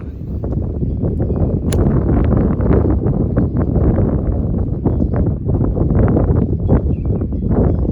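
Strong gusty wind on a golf course buffets the microphone with a loud, continuous low rumble and roar for the whole stretch, with no other clear sounds above it.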